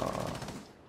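A rapid burst of automatic gunfire from the tactical shooter Rainbow Six Siege, loud and close, with the rattling shots fading quickly within a second.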